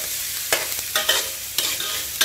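Vegetables and onion stir-fry in a pan for fried rice with naem, giving a close, steady sizzle. Several sharp scrapes of the spatula break through it, and no one speaks.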